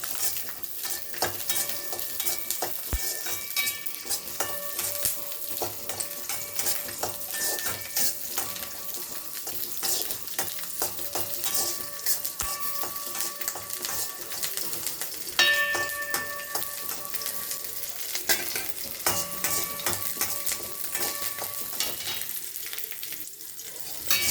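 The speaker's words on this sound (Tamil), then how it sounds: "எண்ணெய் விட்டு இந்த பூண்டை வதக்கி, இந்த பூண்டை வந்து இந்த ஸ்லோ ஃப்ளேமில் வச்சு இந்த பூண்டை வதக்கி" Garlic sautéing in groundnut oil over a slow flame, a steady soft sizzle with occasional stirring scrapes, close and continuous for the whole stretch with no talking.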